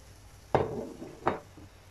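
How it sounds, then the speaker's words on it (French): A spoon stirs rice in a pot to separate the grains while cooking riz gras, making two distinct knocks against the pot about a second apart, fairly quiet and with no talk. "je vais remuer pour détacher les grains de riz"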